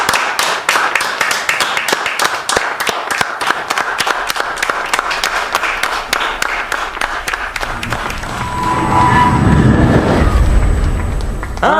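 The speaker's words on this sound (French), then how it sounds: "Plus fort! Applaudissez le capitaine." A crowd applauds a captain, a steady loud round of rhythmic clapping that later turns into a louder, rumbling mass of cheering and noise.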